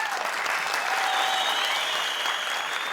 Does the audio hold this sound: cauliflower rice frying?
no